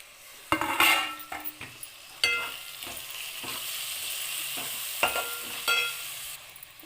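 A spoon stirs onion egg masala curry with tomatoes in a pan, scraping in several distinct strokes over a soft, continuous sizzle, with some clinks against the pan.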